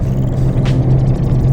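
A Ford Fiesta ST200 engine accelerating up to the speed limit, a loud, steady low rumble heard from inside the car with no talk over it.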